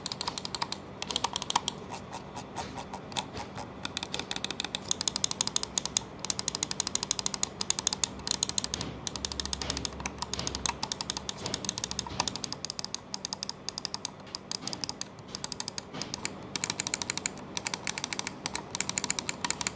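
Rapid, uneven clicking of hot-swappable gaming mouse switches on a Rexus Daxa, steady and close, with crisp ticks tumbling over each other throughout, no voices.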